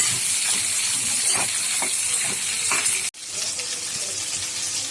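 Onions and garlic sautéing in a pan for mutton uppukari give a continuous sizzle with occasional stirring scrapes and a brief cut partway through.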